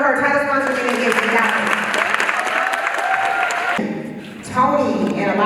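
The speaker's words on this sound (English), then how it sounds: "Clap it up for her." An outdoor crowd at a girls flag football event claps steadily, the applause mixed with voices speaking over it, dipping briefly before picking up again with more talk.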